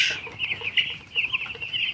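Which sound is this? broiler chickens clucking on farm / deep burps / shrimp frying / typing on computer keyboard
broiler chickens clucking on farm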